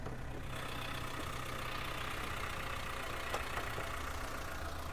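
A steady, even idle from a 2008 Maruti Swift petrol engine with the bonnet open, a continuous low hum and faint mechanical clatter heard at moderate distance without talk.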